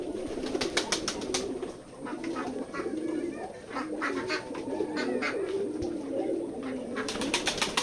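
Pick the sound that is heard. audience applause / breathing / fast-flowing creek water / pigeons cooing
pigeons cooing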